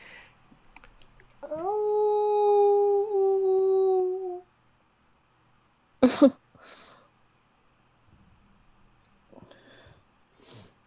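A wolf howl sound effect played during a live-play tabletop game: one drawn-out, gliding howl lasting about three seconds, followed by short sharp snorts and sniffing noises.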